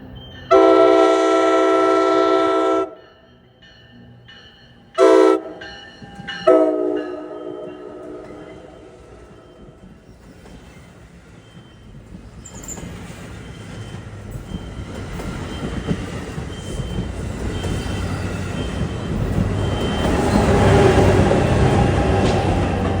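Commuter train 1113 on the ex-Erie Main Line in northern Bergen County, New Jersey, opening with a loud sustained horn blast and shorter toots, then a growing rumble and clatter of cars as it approaches.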